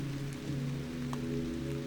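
Steady rain patters on a surface, a soft continuous hiss with a faint low hum beneath and a few louder drops, no voice.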